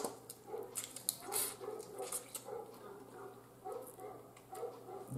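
Dog barking off in the distance, faint and intermittent, under nearby chatter and background noise.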